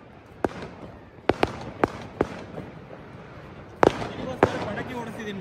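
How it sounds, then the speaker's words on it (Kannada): Firecrackers go off in a series of sharp, irregular pops, some close together and others spaced apart, against a low background murmur. "ನಿನಗೋಸ್ಕರ ಪಟಾಕಿ ಹೊಡಿಸ್ತಿದ್ದೀನಿ"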